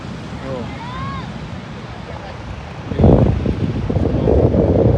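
Large sea waves surge ashore at Madhavpur beach in Gujarat, a steady wash of surf and wind that swells louder in the second half, with people talking nearby.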